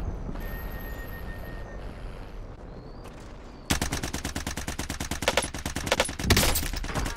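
Dense rapid gunfire erupts in a Warzone multiplayer match on a busy map, a steady drone giving way to loud, sustained bursts of automatic shots with sharp overlapping cracks.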